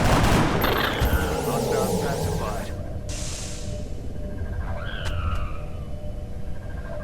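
Weapon fire at aliens in XCOM: Enemy Within: a loud burst of sci-fi gunfire opens, then a droning hum, whooshing and a warbling electronic tone, with a narrator talking over it.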